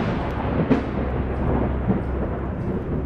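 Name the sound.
thunder crack with lightning, story sound effect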